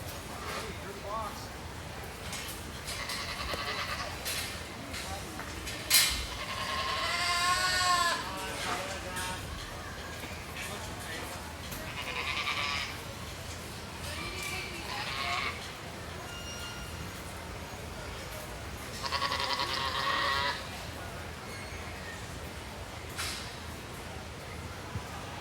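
Goats bleat at intervals from the pens at a 4-H and FFA meat goat show at a county fair, wavering calls standing out over crowd murmur and a show announcer talking.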